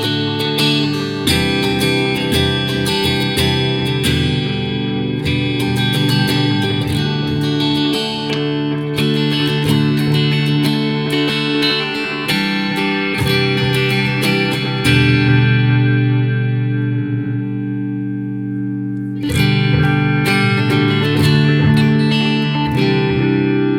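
An electric guitar runs through an MXR Carbon Copy analog delay set for a chorus-like shimmer, with strummed chords and picked notes repeating and smearing into warm echoes, playing continuously and loud with a few brief pauses.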